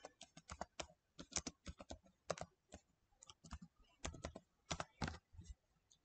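Close, crisp tapping on a laptop keyboard while entering text into a search bar, quick irregular clusters of keystrokes separated by short pauses.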